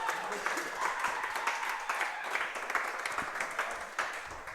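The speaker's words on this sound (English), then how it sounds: "give a round of applause for Mr. Chuck Pledge, who is back with us" An audience applauds a man returning to a high school coaches' show, with brisk, steady clapping that continues unbroken and moderately loud, and talk mixed in underneath.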